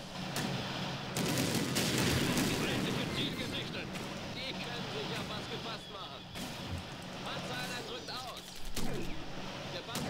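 Battle sounds from the WWII strategy game Blitzkrieg 2: steady artillery booms and scattered small-arms fire under a busy rumble, fairly quiet, with a person talking over them for much of the time.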